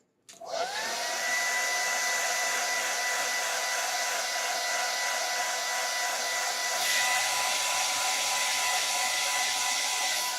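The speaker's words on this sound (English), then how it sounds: "now it's going to be a little bit of a hair dryer moment." A hair dryer switches on and blows with a steady, loud whirring roar that continues unbroken, its pitch shifting slightly partway through.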